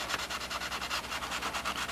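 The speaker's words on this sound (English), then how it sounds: "That's why it's real important to have this sanding block with an angle on it." An angled sanding block rubs back and forth over the wing fillet of a model Spitfire, a steady, close, raspy scraping in even strokes with no talk.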